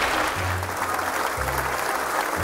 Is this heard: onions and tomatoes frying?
no